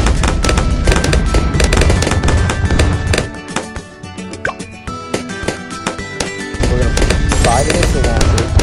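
Bomb tower explosions in Bloons Tower Defense 6 on round 15, with frag bombs. Rapid, repeated popping blasts crackle over a dense bed of game sound, thinning briefly in the middle before building again.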